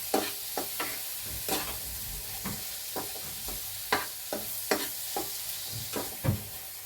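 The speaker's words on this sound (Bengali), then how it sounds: "টমেটোটা না খুব ভালো করে কুচিয়ে নিতে হবে, এর সঙ্গে মিশিয়ে দাও, দিয়ে আবারও ভালো করে এটাকে কষতে হবে।" Tomato and soya chunk keema sautéed in a pan, with a steady sizzle and a regular series of spatula scrapes and stirs, close and clear with no talking.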